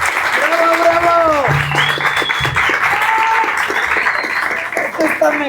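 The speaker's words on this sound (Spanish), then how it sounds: "con ese caluroso voto de aplausos vamos a continuar" Loud audience applause at a Spanish-language human rights and technology talk, with steady dense clapping and scattered cheers and voices over it throughout.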